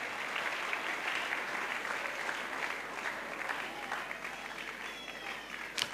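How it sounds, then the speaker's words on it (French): A church congregation claps in praise to the Lord during a crusade service, steady dense applause throughout, loud and close, with crowd noise mixed in. "Clap to the Lord as they come."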